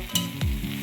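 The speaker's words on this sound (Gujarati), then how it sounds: "તો એને સતત ને સતત હલાવ્યા કરવાનું છે આપણે" Amla jelly mixture cooking with ghee in a pan is stirred, one brief close scrape over a continuous low sizzle.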